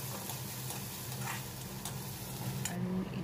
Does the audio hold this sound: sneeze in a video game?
no